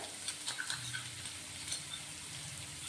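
Onions soft from frying sizzle steadily in a pan with turmeric and red chilli powder for aloo paratha filling, with light spoon clicks and stirring scrapes over a constant hiss.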